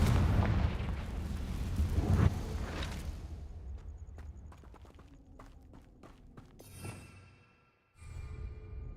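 A Confringo fire spell blasts in Hogwarts Legacy, a burst of booming impacts up front, then scattered sharp cracks and clatter fading before a short silence and a fresh rush of sound.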